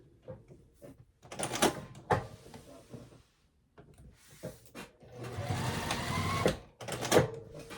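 A sewing machine back stitching at the end of a seam, running in short bursts of whirring stitches separated by pauses and handling clicks, close and moderately quiet.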